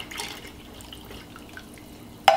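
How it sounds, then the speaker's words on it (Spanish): Evaporated milk pours into a pot of creamy broccoli soup, a faint, brief liquid trickle with light dripping, ending in a louder splash. "Y voy a agregar leche evaporada."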